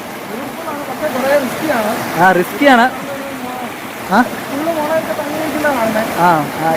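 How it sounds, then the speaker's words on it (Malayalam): A hill stream near Ezharakkund Waterfalls rushes steadily in the background during a stream hike, a continuous watery hiss heard under loud, close conversation throughout. "ഇങ്ങനെ ഈ അരുവിയുടെ നല്ല ശബ്ദമൊക്കെ കേട്ട്"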